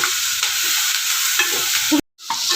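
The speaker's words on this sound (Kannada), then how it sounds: "ನೋಡಿ ಎಣ್ಣೆಯಲ್ಲಿ ಒಂದು ಸ್ವಲ್ಪ ಬಾಡಿಸ್ಕೋಬೇಕು ನೋಡಿ ಈ ಥರ ಎಣ್ಣೆಲಿ ಬಾಡಿಸ್ಕೊಂಡು" Ginger, garlic and green chillies sauté in hot oil with a steady sizzle and scraping stirs, cut by a brief silent gap near the end before the frying resumes.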